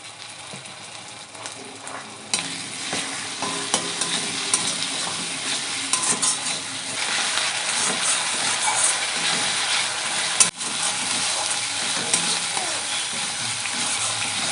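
Tomato paste frying in a pan with ginger, garlic and onion, giving a dense continuous sizzle with intermittent scraping and stirring, plus a sharp knock near the end.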